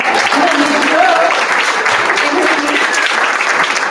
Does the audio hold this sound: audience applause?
yes